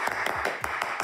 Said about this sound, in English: You can clap fast and it just like goes like this.